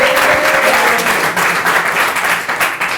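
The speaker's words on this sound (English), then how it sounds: "Let's have a round of applause for that." Steady applause from a crowd at a 2021 graduation ceremony for air traffic control trainees in Palmerston North, a dense, even wash of clapping lasting the full stretch without talk.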